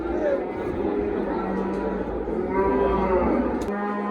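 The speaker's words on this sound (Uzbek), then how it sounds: "Mana bu sigirimiz." A cow at a livestock market in Parkent, Tashkent gives a long, loud moo lasting several seconds, close by, with faint crowd murmur in the background.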